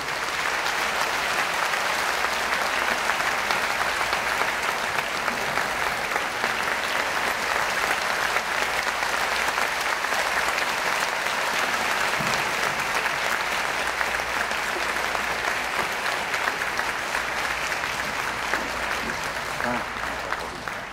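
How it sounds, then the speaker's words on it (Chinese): An audience applauds at a church general assembly to welcome former Taiwanese president Lee Teng-hui, a dense, sustained clapping from a large crowd that continues steadily for about twenty seconds. "我要将这个时间来交予咱的李前总统，请咱用热烈的掌声。 来加以欢迎。"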